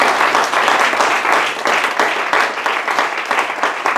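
A church congregation breaks into loud, sustained applause, many hands clapping together in a dense, steady wash that fills the hall for several seconds.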